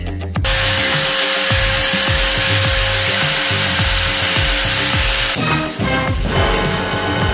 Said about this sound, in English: what happens when you angle grind a ferrocerium rod